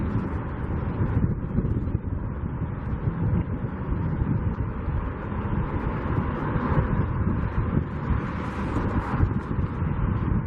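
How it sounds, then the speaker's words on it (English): Steady, loud wind buffeting at the top of a stadium construction site, with broadband rumble throughout, continuous and gusty, no voices. "It's very windy"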